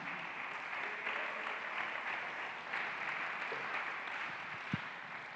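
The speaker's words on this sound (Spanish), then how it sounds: "Denle un fuerte aplauso al Señor." A church congregation applauds during a sermon, sustained clapping from many hands holding at an even level, with a single sharp knock or thump near the end.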